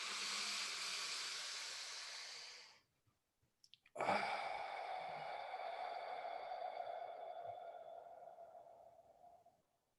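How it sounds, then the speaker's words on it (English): Breathing exercise with long, steady exhales through a small slit in the lips, a loud hissing breath that fades out, a pause with faint small sounds, then another drawn-out breath lasting several seconds, close and alone. "exhaling through a small slit in the lips"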